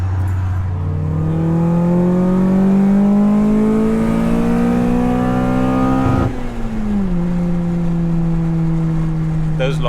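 A K20-swapped Honda Jazz engine revs up high and loud in a long rising pull, then drops off and settles into a steady drone, with people talking in the cabin.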